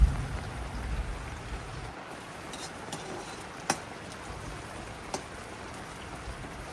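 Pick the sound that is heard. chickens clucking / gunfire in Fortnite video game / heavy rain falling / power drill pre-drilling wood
heavy rain falling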